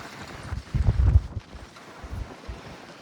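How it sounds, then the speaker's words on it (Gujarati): Strong, gusting wind on a mountain road between Sonprayag and Badrinath, buffeting the microphone in low rumbling bursts, loudest around the middle of the clip. "બહુ જ પવન આવે છે ખતરનાક."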